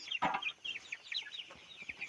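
Three small colour-bird broiler chickens on a farm weighing scale give soft, scattered clucks and chirps, close and fairly quiet, with brief rustling.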